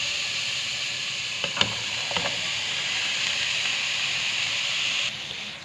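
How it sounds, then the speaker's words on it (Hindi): Capsicum, chicken and cabbage sizzle steadily in a hot pan, a continuous frying hiss with a few light stirring clicks, close and even throughout, with no voices. "इसको 2 मिनट के लिए इसमें फ्राई करेंगे"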